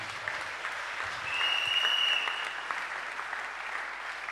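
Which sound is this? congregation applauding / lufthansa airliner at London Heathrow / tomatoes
congregation applauding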